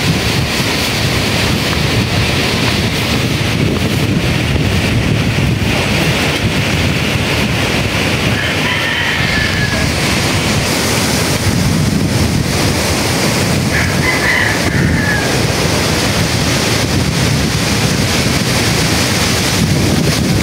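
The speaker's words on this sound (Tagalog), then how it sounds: "Malakas pa rin po yung hangin." Strong typhoon wind roars continuously, buffeting the microphone with a loud, steady rush and no speech.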